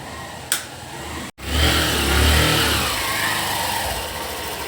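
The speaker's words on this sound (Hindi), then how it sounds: "पहला कदम आपकी नई गाड़ी का।" Engine of a newly bought car arriving at a family home, a loud, steady mid-pitched rumble close by with slight surges, following a brief sharp knock.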